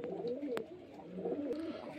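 A Giribaz pigeon from Murshidabad gives soft, low repeated coos close by, with a couple of sharp clicks or wing taps in between and no talking.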